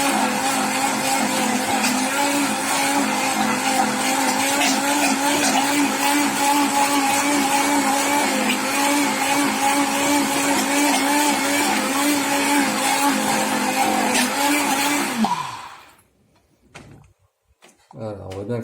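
A blender whirs loudly and steadily for about fifteen seconds, mixing a thick Marseille soap paste with essential oils, then cuts off abruptly, leaving a few faint knocks.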